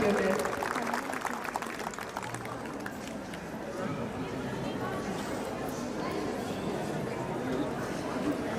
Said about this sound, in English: Let's give a thunderous round of applause to the winning house for their remarkable achievement.